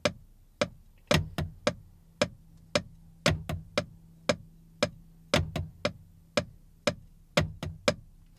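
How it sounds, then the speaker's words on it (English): A close, dry drum backbeat repeats steadily, strong snare hits landing with the hi-hat and lighter ghost-note snare strokes in between, in a tight, recurring pattern. "you land exactly with the hi-hat and then you play a note between the hi-hat"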